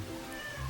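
A timid cat gives a single short meow indoors in a house, close and fairly faint, with no other sound around it.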